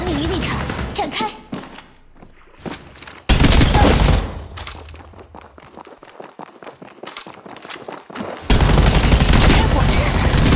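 Apex Legends combat with loud bursts of gunfire, heavy thumping impacts and rattling volleys that cut in abruptly, alternating with quieter stretches of scattered clatter and game effects.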